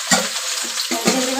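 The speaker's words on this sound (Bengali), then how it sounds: "ভেন্ডিটা দিয়ে দিলাম কড়াতে" Okra frying in a wok gives a steady sizzle, broken by a few scraping stir strokes. It sounds close and moderately loud, and no one speaks.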